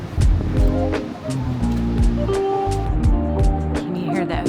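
Ocean surf rolls onto a beach in a loud, continuous wash with repeated crashing peaks, heard close, with a harmonic wind-like rumble underneath.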